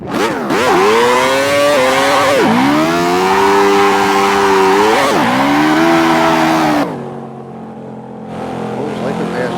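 A loud video-game car engine revs hard, its pitch climbing and dropping sharply with each gear change, then settling into a quieter, lower idle near the end.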